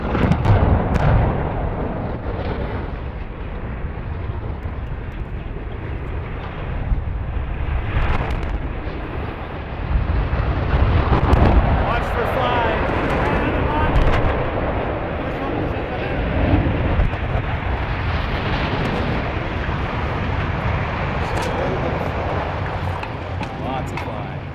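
Second smokestack at the Nanticoke Generating Station coming down in a demolition blast: a long, loud, rolling rumble with crackling bursts that swells and stays heavy for over twenty seconds.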